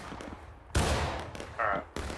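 Several loud musket shots crack out in a Civil War battle in the video game War of Rights, with sharp broadband bursts in irregular succession and a steady wash of distant battlefield noise underneath.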